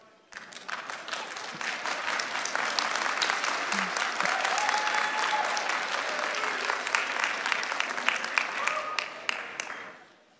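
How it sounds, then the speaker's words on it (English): The audience at a Galen College of Nursing graduation ceremony in Cincinnati breaks into sustained applause. Dense, loud clapping swells within the first second, holds steady for about nine seconds, then tapers off, with faint voices mixed in. "give them a round of applause for their support"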